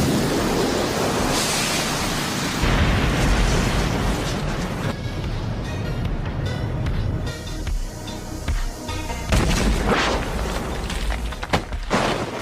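A fire-style jutsu explosion in a Naruto anime fight, Hindi dub: a sustained loud roaring blast of rushing, rumbling noise fills the whole stretch, with surging swells and crackling bursts and no talk over it.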